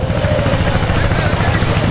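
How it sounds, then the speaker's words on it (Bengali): A fishing trawler's engine on the Kuakata coast puts out a loud, close, steady low chugging drone that continues throughout. "যারা ট্রলার দেখছেন সবই ফিশিং ট্রলার"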